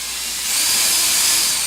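A power drill pre-drilling holes for four bolts in a garage door opener setup runs in one steady, close whir for under two seconds, rising slightly partway through, with no talk.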